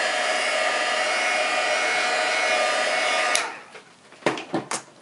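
A dryer blasting steady, loud, close airflow over freshly painted faux metal pieces for about three seconds, then cutting off, followed by a few light knocks and handling sounds.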